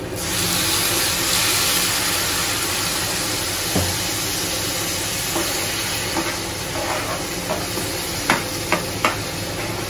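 Water poured into hot pav bhaji gravy in a pan sets off a loud, steady steam hiss that fills the whole stretch, with a few soft clicks and taps near the end.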